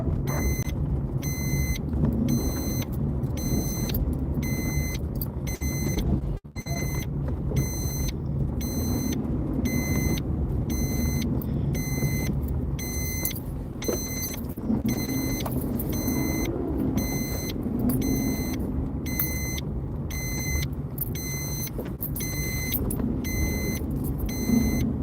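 A car's seatbelt warning chime beeps in a steady, rapid repeating pattern throughout, bright and insistent over the low rumble of the idling vehicle's cabin.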